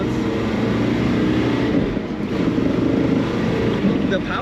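A 1968 Chevrolet Camaro convertible with a 427 big-block V8 rumbles loud and close in a deep, steady engine drone with slight surges, under someone talking.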